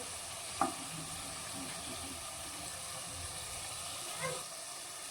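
Chicken green kabab shallow frying in a modest amount of oil, a steady soft sizzle and hiss running throughout, with two brief sharper spatters or stirring clinks near the start and near the end.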